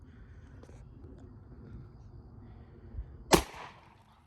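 A Taurus Judge revolver fires one loud, sharp gunshot near the end, preceded by a quiet outdoor lull with faint voices.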